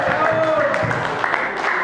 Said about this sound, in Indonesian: Perlobe tepuk tangan untuk kita semua.